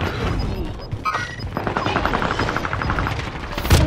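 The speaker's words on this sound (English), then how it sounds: "Precision airstrike missed." A precision airstrike in Call of Duty: Modern Warfare hits with a fast, dense clatter of gunfire-like impacts and crashing blasts, loud and sustained, ending in a sharp louder hit.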